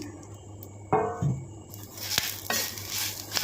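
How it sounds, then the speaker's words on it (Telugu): Curry leaves lightly dry-roasted in a pan, with a spoon scraping and stirring them; a few sharp metallic knocks and clatters rise over a faint crackle, close and intermittent. "కరివేపాకు ఇదో లైట్గా వేపుతున్నాను"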